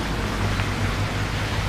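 Aquarium aerator bubbling steadily in a covered koi quarantine tank, a dense continuous hiss of fizzing water with a low hum beneath, close and fairly loud.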